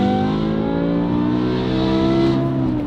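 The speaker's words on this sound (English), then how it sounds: "Listen to how good this car sounds." A BMW E60 M5 V10 fitted with a Valvetronic valved exhaust and stock headers revs steadily and loudly up close, its dense harmonic engine tone rising slightly in pitch across the clip with no talking.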